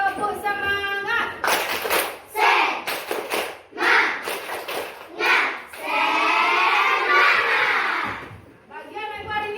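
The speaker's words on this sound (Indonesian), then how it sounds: "kita latih konsentrasi dengan melakukan tepuk semangat" A class of children doing a rhythmic spirit clap, bursts of sharp unison hand claps in a patterned beat mixed with children's shouting voices, close and fairly loud.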